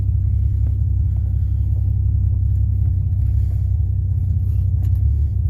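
An old vehicle's engine idles steadily while warming up, a loud, low, even rumble with no change in pace and no voices.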